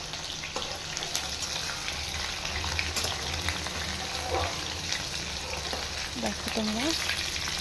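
Chopped onions frying in hot oil for ghugni, with a steady soft sizzle running throughout beneath a brief spoken phrase from the cook.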